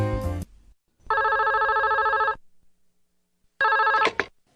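A telephone rings at a hotel reception desk in two loud electronic bursts, a long ring followed after a pause by a shorter one, with no one talking.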